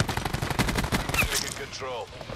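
Rapid bursts of game gunfire in an Arms Race team deathmatch, loud and close, firing in quick repeated shots over about two seconds alongside other battle noise.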